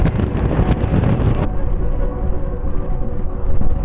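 Strong crosswind roars and buffets the microphone of a motorcyclist riding fast on a highway in Madhya Pradesh, a loud continuous rumble with no speech.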